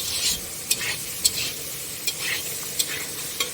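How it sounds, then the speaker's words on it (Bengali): Potatoes with a little turmeric frying in a pan, a steady hiss of sizzling oil broken by several sharp scrapes and clinks of a spatula stirring at irregular intervals, close and moderately loud with no talking. "এই আলুটা ভাজা ভাজা হয়ে এসছে।"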